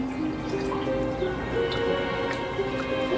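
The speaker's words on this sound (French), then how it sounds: "Le flacon commence à se remplir." Water trickles into a flask inside a reconstruction of an ancient gravity-driven hydraulic device, a soft gurgling fill with small drips over a low, continuous background.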